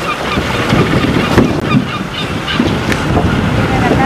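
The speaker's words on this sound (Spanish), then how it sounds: "Pingüinos magallánicos." Honking, braying calls of Magellanic penguins at a coastal colony at Puñihuil rise over a steady roar of strong wind and surf, with several calls overlapping at moderate distance.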